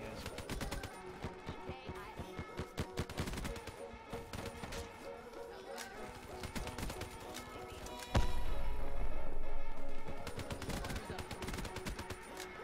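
Rapid gunfire from the best-rated gun in the Black Ops 3 video game, dense bursts of shots crackling continuously throughout with a louder stretch midway.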